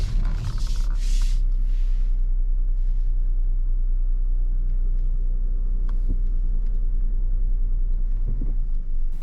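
A car slowly reverses into a parking bay, its engine a steady low rumble close by throughout, with a few brief rustling bursts at the start and no talking.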